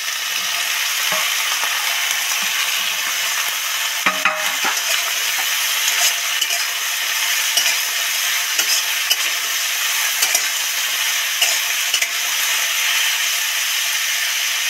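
Ridge gourd, tomato and potato frying in a pan over low heat, with a continuous loud sizzle and hiss throughout and occasional clinks and scrapes of stirring.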